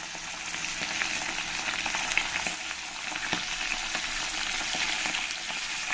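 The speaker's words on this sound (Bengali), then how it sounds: "এরপরে আমি এক এক করে এই মাছগুলো এর মধ্যে দিয়ে দেবো তেলের মধ্যে" Pieces of fish fry in hot oil, a steady, fairly quiet sizzle with scattered small pops and light stirring, no voices.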